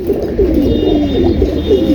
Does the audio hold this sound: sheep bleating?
no